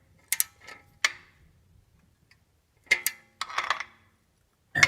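Ratcheting wrench tightening the ignition coil bolts on a Pontiac Fiero GT, several short bursts of clicking ratchet strokes separated by pauses, close and fairly quiet.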